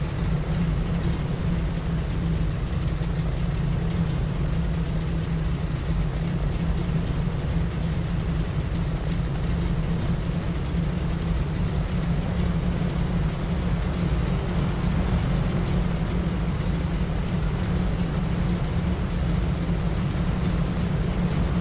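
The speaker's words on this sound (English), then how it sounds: "I love the sound of those engines" Twin engines of a Carenado PA34 Seneca V in the Prepar3D flight simulator drone steadily and continuously, a thick, even engine rumble with no breaks or talk.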